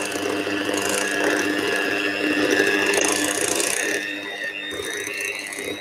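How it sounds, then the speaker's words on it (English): An electric hand mixer runs on low speed, whisking cream cheese and icing sugar for a no-bake cheesecake, a close, steady mechanical whir with rattling beaters and a slight drop in pitch near the end. "So with our hand mixer, this is our cream cheese and our icing sugar, and I'm going to just, on low speed,"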